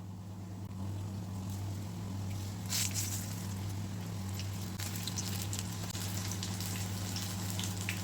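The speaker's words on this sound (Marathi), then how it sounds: "प्रत्येक रिंग असं बॅटरमध्ये आपण डीप करूया आणि ह्याला फ्राय करून घेऊया" Chilli rings coated in batter deep-frying in hot oil, giving a steady, close bubbling sizzle with a low constant hum throughout and brief louder crackles partway.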